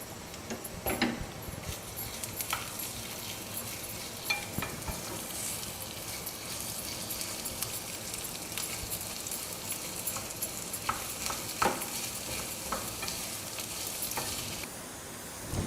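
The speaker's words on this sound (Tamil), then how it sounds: "பெரிய வெங்காயத்தை போட்டு நல்லா ஒரு மாதிரி ப்ரௌன் கலரில் இருக்கிற மாதிரி வறுக்கணும் நம்ம." Sliced large onions fry in oil for a vegetable pulao, a steady close sizzle with stirring scrapes and occasional clicks running throughout, with no one speaking.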